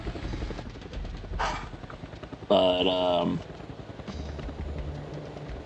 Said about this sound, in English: in-game the helicopters basically land like planes do